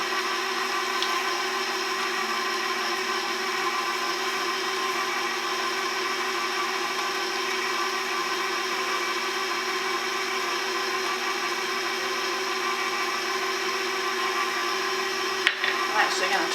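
An electric mixer runs at a steady, even whir throughout, beating egg with bourbon vanilla and thick sorghum syrup for cookie dough, ending with a brief clunk.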